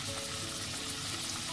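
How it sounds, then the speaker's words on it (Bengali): Prawns frying in a pan for a Bengali prawn bhuna, a steady dense sizzle held close and even throughout, with no voices. "এটাকে একটুখানি ভেজে নিব।"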